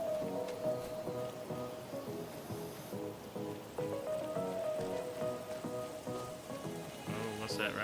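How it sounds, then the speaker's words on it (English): Steady rain hisses and patters across a coastal forest in the farming game Farming Simulator 25, a constant wash of drops with faint musical tones layered beneath. "the rain is stopping."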